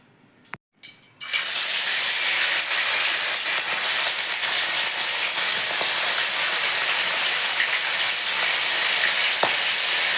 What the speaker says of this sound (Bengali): শাকের জন্য কড়াইতে দিয়ে দিচ্ছি সরষের তেল